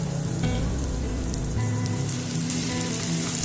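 Chopped garlic fries in hot oil beside onions in a pan for a mango and boiled egg curry, giving a loud, steady crackling sizzle that swells briefly and holds without any talk.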